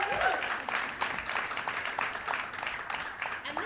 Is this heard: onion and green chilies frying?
no